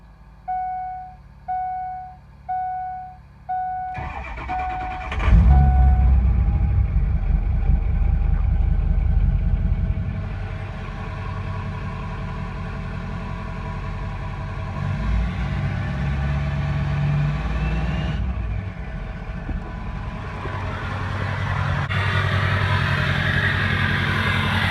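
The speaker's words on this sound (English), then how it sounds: "We're gonna go ahead and do a cold start, even though it's 90 some degrees outside." Four short electronic beeps, then a race truck's engine cranks and fires on a cold start on a hot day, revving loudly before settling into a heavy, rumbling idle with occasional throttle blips.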